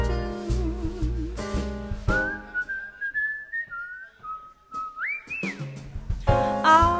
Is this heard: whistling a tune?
yes